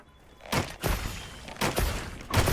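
Bow shots in Monster Hunter Wilds: several sharp, forceful releases in irregular succession, each a loud burst with a trailing whoosh and impact, separated by short quieter gaps.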